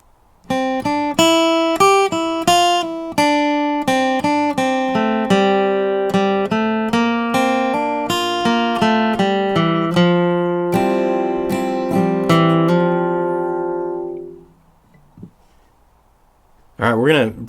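Bright flatpicked acoustic guitar plays four measures of the bluegrass tune Over the Waterfall in a lively, even stream of notes with brief strums, closing on a sustained chord that rings and decays before a voice begins speaking.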